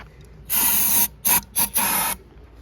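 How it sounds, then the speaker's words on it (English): An aerosol can of starter fluid sprays into an edger engine in bursts: one long hiss, two short spurts, then another longer blast, close and loud. "So now I'm gonna spray some starter fluid down its throat"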